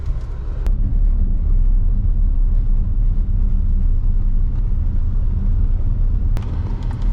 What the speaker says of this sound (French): Le véhicule répond très bien après un petit démarrage chaotique au départ.